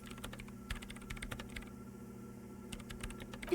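Rapid keyboard typing in the video game Disco Elysium, a steady clatter of key presses with a brief pause midway, over a low hum and under no talk.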